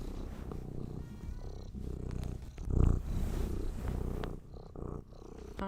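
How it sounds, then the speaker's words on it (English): A cat purrs steadily and close by in a low continuous rumble through the whole stretch, with a brief louder swell in the middle. "There's the purrs."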